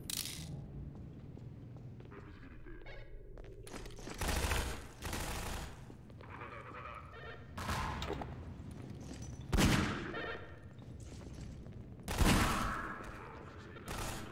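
A gunfight in Half-Life 2 with several separate bursts of automatic gunfire and impacts spread across the stretch, moderately loud against quieter game ambience between volleys.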